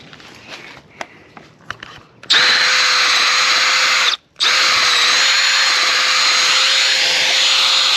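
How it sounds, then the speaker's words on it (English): A corded 1/2-inch Milwaukee drill with a long Irwin bit bores into a wooden fence post. Faint knocks come first, then the motor whines loudly and steadily, stops briefly and starts again close by. "1/2-inch Milwaukee drill and this Irwin bit. And it's long enough where it'll go all the way through the post"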